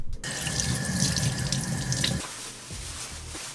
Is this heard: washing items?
yes